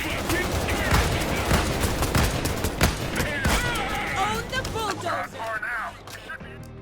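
Sustained rapid gunfire from the HET5 Red Fox rifle in the shooter game Payday 3, with dense overlapping bursts of shots that thin out toward the end as a voice talks over them.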